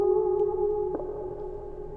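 A guitar sample with its slap percussion EQ'd out: a steady, sustained guitar tone that slowly fades, with only a faint soft trace where the slap once hit, and no voices.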